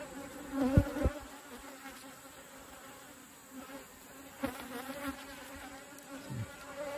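Soft, continuous buzzing of many honey bees on a hive frame close by during a hive inspection, with a few faint taps and handling bumps against a quiet background.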